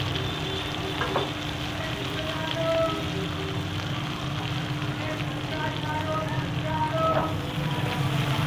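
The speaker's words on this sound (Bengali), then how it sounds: "আর একটু তেল দিয়েছি, তেলেতেই পেঁয়াজ কুচিটা দিয়ে দিলাম" Chopped onion sizzles in hot oil in a pan for a potato, soybean and pea curry, a steady, dense frying hiss that continues evenly throughout, close and fairly loud, with no voices.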